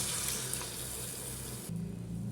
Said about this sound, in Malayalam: നമ്മൾ എടുത്തു വെച്ച രണ്ടാം പാലുണ്ടല്ലോ അത് ഒഴിച്ച് കൊടുക്കാം